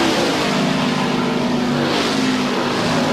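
Race cars at the 2000 Pocono 500 roar past side by side, a loud, dense engine drone filling the air with a slight swell in pitch midway, no commentary audible.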